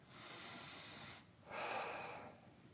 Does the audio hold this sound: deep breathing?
yes